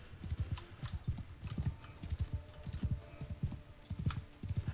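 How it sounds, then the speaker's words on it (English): A horse gallops in Mount and Blade 2 Bannerlord, its rapid hoofbeats drumming close and continuous throughout amid battle ambience. "I can actually mount my horse for once."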